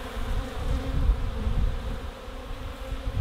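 Honey bees buzzing around a hive made of boxes, a dense continuous low hum from many insects, close and steady with slight swells in loudness.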